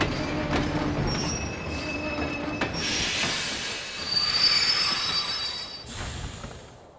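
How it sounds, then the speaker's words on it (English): A train pulls into a station in the Kingdom Hearts video game, its wheels squealing in high, drawn-out metallic tones over a rumbling rail clatter, with brakes screeching louder near the end as it slows. "The train will be arriving shortly."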